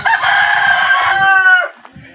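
A fighting rooster (gamecock) gives one long, loud crow close by, sustained for well over a second before it breaks off into quiet.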